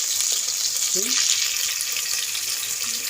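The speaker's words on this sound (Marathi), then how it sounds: "कांदा छान परतून घेऊया" Onion and curry leaves frying in a pan make a dense, bright hiss that is steady and close, with a faint voice briefly heard beneath it.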